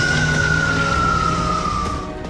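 An ambulance siren rings out in Majdal, Lebanon, after a strike. It is a steady, loud, high tone that holds for a couple of seconds over a busy street rumble.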